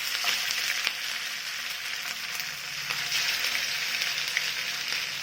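Semolina and potato snacks fry in hot oil with a steady, close, continuous sizzle and crackle, and no voices.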